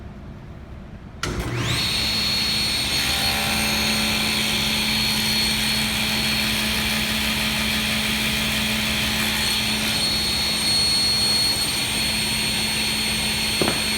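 A band saw starts up after a moment of quiet and runs as a loud, steady whine with a constant low hum while cutting a wooden piece to true up its edge, continuing unbroken to the end.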